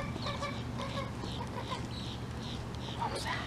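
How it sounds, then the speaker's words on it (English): Birds call repeatedly around a boat dock in Mount Dora, with honking, goose-like cries and chatter layered over a low background hum and faint outdoor ambience. "Some of the birds over here."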